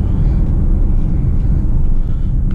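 An MG HS engine revs while driving at night, a loud, close, continuous low rumble with road noise that stays heavy and steady throughout.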